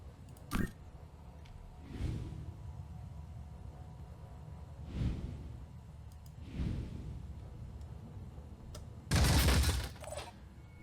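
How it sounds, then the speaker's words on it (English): A turret firing in the Phoenix Point tactical game, with a sharp shot near the start, a few muffled thumps spread out over several seconds, then a louder burst of fire near the end against a quiet hum. "Let's see if the turret can do it."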